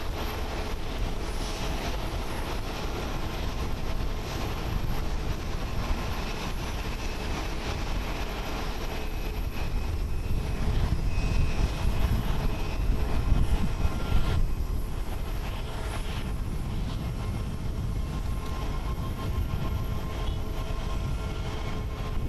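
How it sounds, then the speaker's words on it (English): A Japan Airlines Boeing 787 departing Haneda Airport in Tokyo, a steady broadband jet engine roar heard from a distance that swells slightly toward the middle and holds throughout. "Departing is Japan Airlines Flight 587 departing to HKD Hakadote. It is a Boeing 787-300ER, 18 years old."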